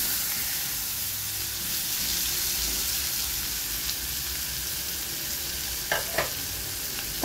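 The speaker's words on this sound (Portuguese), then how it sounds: "E vamos fritar." Chopped garlic and onion fry in hot oil with a constant, even hiss of sizzling, and a couple of short utensil scrapes come near the end.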